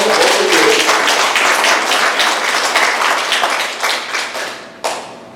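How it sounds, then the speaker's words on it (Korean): A church congregation applauds during a Sunday worship service, a loud, thick wash of clapping that thins toward the end into a few scattered claps before stopping. "우리 박수 한번 하실까요?"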